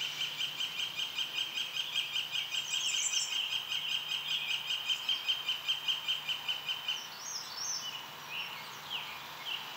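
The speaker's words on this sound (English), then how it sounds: "One way to identify the Redstart is by their strong habit of rapidly repeating their song as they flit" American Redstart warbler singing, short high song phrases repeated rapidly one after another, clear and moderately near against a quiet outdoor background.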